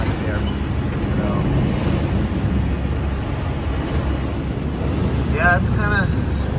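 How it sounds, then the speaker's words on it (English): Strong wind buffets a sailboat at sea on a passage from Beaufort to Charleston, a steady roaring rush of wind and water throughout with brief creaks near the end. "man, are we just getting thrown around into the wind"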